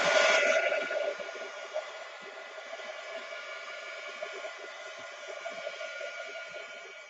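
A hair dryer runs steadily as a woman gets ready, its airy whooshing hum louder at the start, then settling to an even, moderately quiet drone with faint background bumps.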